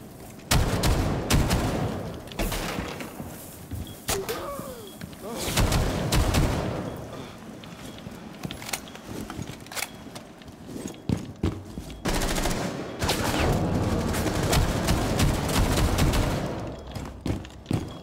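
Rapid automatic gunfire in Rainbow Six Siege comes in repeated loud bursts with sharp single shots between them. There are quieter gaps and close, punchy reports, and the firing runs on and off for the whole span.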